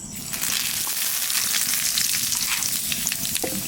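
Cumin seeds and bay leaves crackle and hiss in hot oil, a dense steady sizzle with scattered pops, close and moderately loud.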